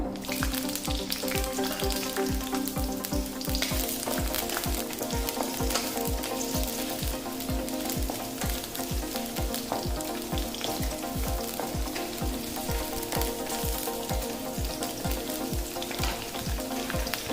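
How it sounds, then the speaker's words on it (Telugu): Green chilies sizzling in hot oil for chicken pepper fry, a loud, continuous crackling fry with rapid popping throughout, steady and close, with no voices. "హీట్ ఎక్కింది, గ్రీన్ మిర్చి వేస్తున్నాను."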